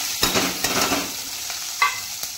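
Cumin and mustard seeds sizzle in hot oil, a dense crackling hiss punctuated by several sharp pops and stirring scrapes, close and loud with no talking.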